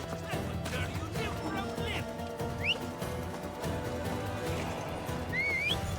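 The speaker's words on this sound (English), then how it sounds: "Ah, horse." A horse whinnies within the game Assassin's Creed Odyssey, a couple of rising squeals heard among busy game ambience, music and ongoing chatter.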